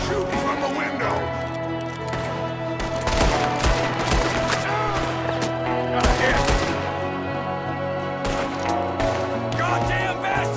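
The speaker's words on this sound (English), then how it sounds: "There's another one shooting from the window." Dense Red Dead Redemption 2 shootout gunfire: repeated loud cracks and bursts crowd the whole stretch, layered over game music and overlapping shouted voices.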